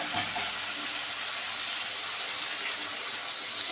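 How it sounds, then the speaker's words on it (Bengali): Water hits a pan of fried potatoes and spices, giving a steady, loud, dense sizzle and hiss that fills the whole stretch up close. "আলু ভাজা হয়ে গেছে, মশলাও কষানো হয়ে গেছে। এইবার জল দিয়ে দেবো,"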